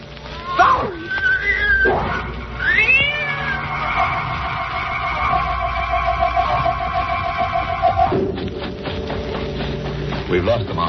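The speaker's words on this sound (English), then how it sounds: "Look behind us. Yes, I can see it now. It's a cat." Cat meowing in a horror show soundtrack, several drawn-out wavering meows and yowls over a continuous eerie droning tone, loud and close, mixed with other background sound.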